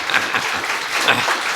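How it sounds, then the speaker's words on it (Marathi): A crowd at the Marathwada industries and SME summit applauds with steady, close, full clapping throughout. "मराठवाड्याच्या उद्योजकांना टाळ्या तर वाजवा"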